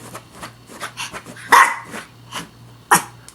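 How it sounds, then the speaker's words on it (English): A dog barks indoors at home, with several sharp barks mixed with lower growly huffs and two louder, close yaps standing out over the span; no talk. "What you barking for?"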